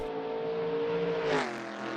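Race car engine in Assetto Corsa, the number 46 Timaru Tyres Centre Commodore, droning steadily down the main straight with a brief swell near the end, loud and close with no talk.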